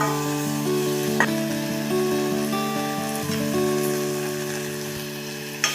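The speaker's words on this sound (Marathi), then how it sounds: "दोन मिनिटं टोमॅटो आपल्याला परतून घ्यायचं आहे. टोमॅटो आपल्याला तेल सुटेपर्यंत भाजून घ्यायचं चांगलं." Tomatoes fry in oil in a pan, a steady close sizzle with a faint sustained tonal hum beneath and an occasional soft clink of stirring, without talk.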